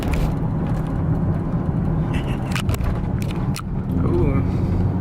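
A Chrysler 300 with a new bumper accelerating onto a freeway, steady engine and road rumble heard from inside the cabin throughout, with a few clicks and knocks and someone talking over it.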